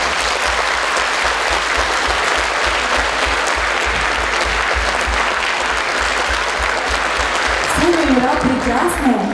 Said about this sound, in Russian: И я прошу вас еще раз поддержать их аплодисментами.